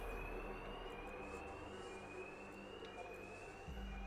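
Bank alarm ringing in the video game Batman Arkham Knight, a steady high electronic tone sounding continuously over a dense, faint background rumble.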